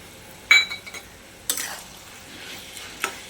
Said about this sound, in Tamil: பொட்டுக்கல்லை போட்டு ஒரு ஒரு நிமிஷம் வதக்கிட்டு